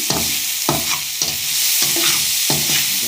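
Onion and green chili frying in hot oil, a constant sizzle broken by about five rhythmic scraping stirs of a spoon in the pan, close and clear with no talking.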